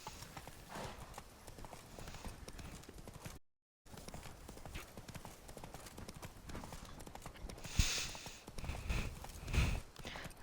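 The horse Roach's hooves in The Witcher 3, a quiet rhythmic clip-clop trot heard close, steady through the clip, with a short dropout and some faint game sounds near the end.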